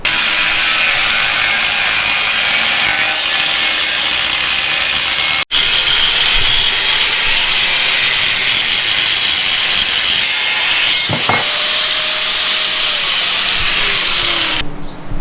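A piece of angle iron clamped in a vise is cut with a power tool, giving a loud, continuous, harsh grinding whine. There is one brief break early, and the sound continues steadily until it stops at the end.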